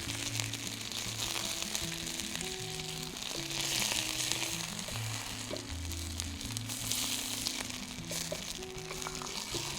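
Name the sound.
pork searing in a hot pan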